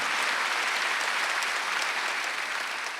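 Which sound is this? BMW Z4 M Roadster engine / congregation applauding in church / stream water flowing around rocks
congregation applauding in church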